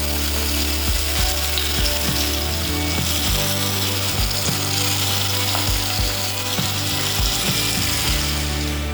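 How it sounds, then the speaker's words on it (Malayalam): Prawns fry loudly in a pan over a high flame, a dense continuous sizzle with a steady hum under it and occasional soft knocks of stirring. "കൊഞ്ച് ഫ്രൈ ആയിട്ടുണ്ട്"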